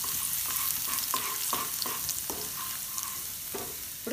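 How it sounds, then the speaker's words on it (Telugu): Finely chopped ginger and garlic fry in a little oil in a pan, a steady close sizzle with a series of rhythmic scraping strokes from a spatula roughly every half second, no speech. "ముందుగా చిన్నగా కట్ చేసుకున్న అల్లం వెల్లుల్లి ముక్కలు ఒకసారి వేద్దాండి"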